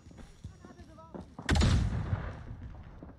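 Gunfire in a shooter video game, a sudden loud burst of shots and booms after quieter game sounds, ringing out briefly before fading, over a player's voice.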